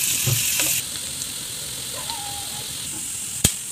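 Onions frying with cumin seeds in a pan while cooking paneer masala tikka, a steady broadband sizzle throughout, with a few brief clicks and a sharp tap near the end.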